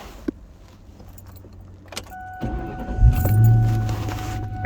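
A key jingles in the ignition of a 1999–2004 Ford Mustang with the 4.6 engine, then the engine cranks and catches into a low idle. Steady dash chime tones sound alongside, all close and fairly quiet.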